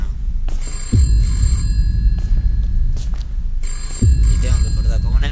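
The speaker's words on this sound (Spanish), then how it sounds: "Siempre hago un video y tiene que sonar el puto teléfono." A telephone rings in a home with two bursts of ringing, the second starting about three seconds after the first, loud and close over a background of game noise.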